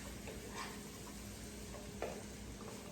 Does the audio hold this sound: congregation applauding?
no